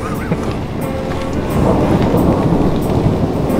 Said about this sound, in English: You can probably hear the thunder in the background.